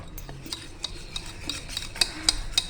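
A whisk beats gram flour (besan) batter for coating vada pav, with regular quick clinks of metal against a bowl, close and fairly quiet.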